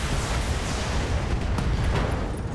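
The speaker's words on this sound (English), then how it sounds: "Ooh, that ammo explosion." A mech's ammunition cooks off in a BattleTech battle, a loud sustained rumbling blast that roars steadily for a few seconds with scattered crackling bursts on top.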